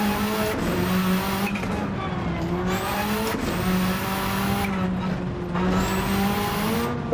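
Rally car from a racing simulator driving a rally track, engine droning steadily with shifting revs and tire noise, loud and continuous throughout with no talk.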